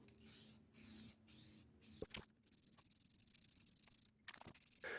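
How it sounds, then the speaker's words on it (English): Rust-Oleum black chrome spray paint applied to a GX470 headlight housing in short hissing bursts, four quick sprays, then lighter, more scattered spraying with small clicks and rubbing, close and clear with no talking. "the rest I'm gonna go ahead and spray black chrome. I'm gonna use Rust-Oleum black chrome."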